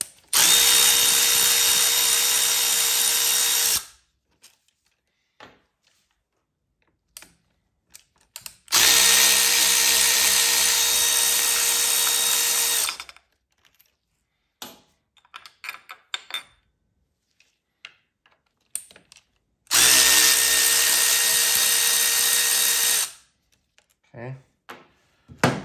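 A power drill spins out the remaining bolts on a Gilroy Indian PP100 cam plate in three loud, steady whirring bursts of about four seconds each. Between bursts come quiet gaps with small clicks and tool handling.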